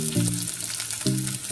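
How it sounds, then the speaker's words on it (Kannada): Garlic, green chillies and small sambar onions frying in oil give a steady close sizzle and crackle, with a low tonal hum from the stove running underneath. "ಹಸಿಮೆಣಸಿನ್ಕಾಯಿ ಮತ್ತು ಸಣ್ಣ ಈರುಳ್ಳಿ, ಸಾಂಬಾರು ಈರುಳ್ಳಿ ಇದೆಲ್ಲ ಅದನ್ನ ಕಟ್ ಮಾಡಿಕೊಂಡು ಫ್ರೈ ಮಾಡ್ಕೊಳ್ತಾ ಇದ್ದೀನಿ"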